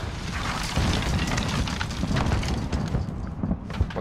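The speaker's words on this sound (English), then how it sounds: "Bro, I stuck someone with my nade." A sticky grenade goes off in a search-and-destroy shooter match, a loud rumbling blast followed by crackling debris and a steady roar of game noise, with no talk.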